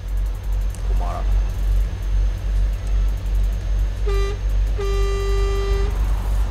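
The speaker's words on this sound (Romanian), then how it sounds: "Ăsta e claxonul." A MAN Euro 6 TGX truck horn in Euro Truck Simulator 2 sounds twice, a short blast then a longer steady toot, loud over a constant engine drone, with someone talking around it.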